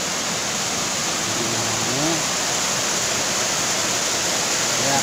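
Constant full rush of river water flowing at the Geang-Geang waterfall, a dense steady roar that stays loud and close throughout, with faint brief voice-like tones briefly audible beneath it.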